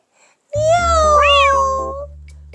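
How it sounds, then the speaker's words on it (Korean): A cat gives one loud, drawn-out meow that rises and then falls in pitch, set against soft, sustained background music tones in a children's fairy tale scene. "미야옹! 고양이가 도둑들 중에 한 명의 얼굴을 확 밝혔어요."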